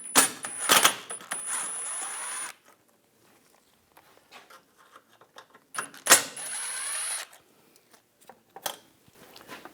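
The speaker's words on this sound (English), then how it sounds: "take these screws out in the back" T20 socket and driver taking screws out of the back of a 2013-2022 Buick Encore front bumper cover, with two bursts of whirring ratchet buzz, scattered metallic clicks and small rattles, close, no talking.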